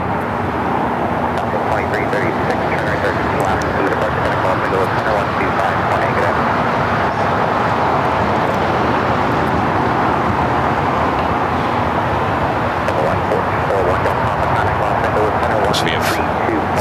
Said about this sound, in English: Southwest Airlines 2389 taking off to Chicago Midway on the